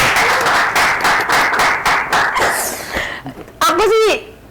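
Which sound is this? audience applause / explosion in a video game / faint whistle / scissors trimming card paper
audience applause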